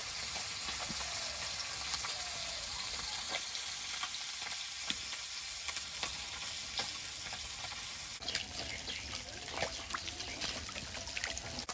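Parshe fish sizzling in hot oil in a wok, a continuous bright frying hiss dotted with small pops and spits, close and steady without any voices.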